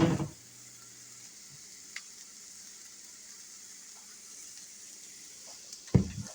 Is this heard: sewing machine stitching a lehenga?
no